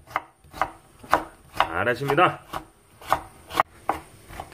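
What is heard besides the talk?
knife finely chopping carrot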